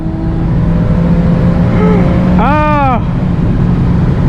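A tuned E85 Infiniti G37 during a street race, its engine flaring up and dropping in a sharp rev sweep as a gear shift is missed, over a steady loud cabin drone, with a brief shout.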